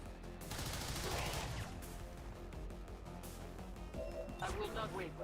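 An overwatch reaction shot in the tactics game XCOM 2, loud crackling bursts of gunfire at the start and again near the end, with a voice speaking between them.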